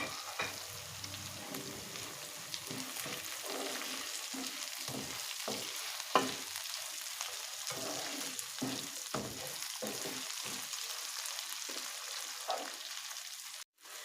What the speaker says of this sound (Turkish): tereyağımızın ardından şöyle buzluğumda çıkardığım bir miktar yeşil biber, bir miktar da Kapya biberimizi de ekleyip şöyle güzelce tekrardan biberlerimizi birlikte kavurmaya devam ediyoruz